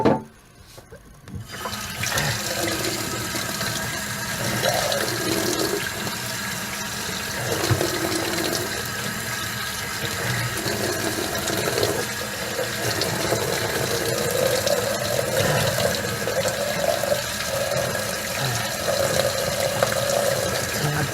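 Water running steadily from a tap into a sink, a continuous close splashing rush that starts after a brief quiet moment and carries on evenly throughout.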